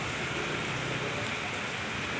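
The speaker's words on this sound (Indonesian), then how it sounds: "Hujan pada sore hari ini membuat genangan air ya." Steady rain pouring onto a city street in Makassar, forming puddles, with a dense, even hiss filling the scene at constant loudness and no voices.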